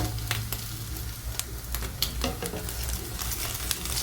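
French toast frying in a pan, a steady close sizzle with faint crackles and occasional light pops from spatula stirring, continuous for a few seconds without speech.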